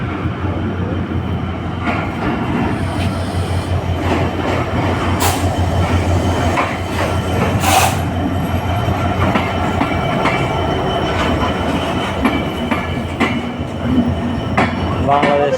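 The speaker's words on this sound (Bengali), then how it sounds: "আমাদের ট্রেন চলে আসছে" A Bangladesh Railway train pulls into Santahar railway junction, a loud continuous rumble of rolling railcars with clattering wheel joints, a few sharp metallic squeals and knocks, and faint voices in the station crowd.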